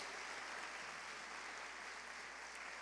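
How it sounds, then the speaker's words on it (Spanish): Fans and guests at a Korean cultural center contest in Mexico applaud steadily, a dense, even wash of clapping that holds at a constant level throughout with no talk over it. "fuerte aplauso."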